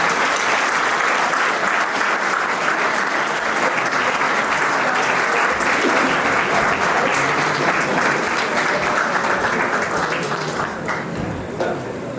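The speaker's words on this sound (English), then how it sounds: "A huge round of applause on this outcome." Audience applauding at a Model United Nations closing ceremony at St Joseph's College, a steady, loud wall of clapping from a large crowd that carries on for several seconds before easing slightly at the end.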